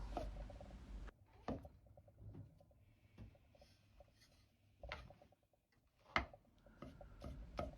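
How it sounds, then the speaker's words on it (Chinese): A knife slices king oyster mushroom into thick strips on a cutting board, giving a few soft, scattered chops and scraping strokes spread irregularly across a quiet kitchen, each one close but faint. "然后再切成稍微粗点的丝， 全部切好后装入一个大点的盆中"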